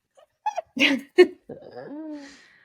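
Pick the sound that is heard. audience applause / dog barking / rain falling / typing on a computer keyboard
dog barking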